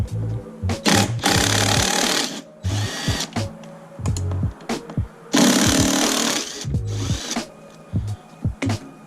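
Power tool whirs in repeated short bursts while backing out 8mm bolts on a motorbike, loud and close, with clicks and pauses between bursts and no talking.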